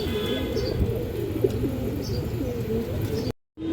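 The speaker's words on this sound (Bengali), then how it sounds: "দর্শক একজোড়া লাল মুসলদম কবুতর আছে মাশাল্লাহ" A pair of red Muslodom pigeons coos steadily from close by, giving low repeated throaty calls with faint chirps above them, before the sound cuts out abruptly near the end.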